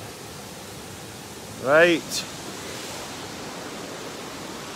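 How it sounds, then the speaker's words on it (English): A waterfall pours in the background as a steady, featureless rush that continues throughout, briefly interrupted by one short spoken word. "and the waterfall."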